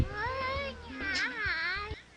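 A cat meows in the Touhouvania 2 video game, giving a drawn-out wavering call that rises and falls over a soft rhythmic background, close and clear.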